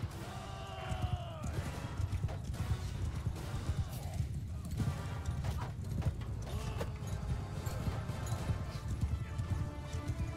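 Horse hooves in Mount and Blade 2: Bannerlord clop steadily and rapidly at a gallop through a busy battle, with faint whinnies and clashing noise mixed in.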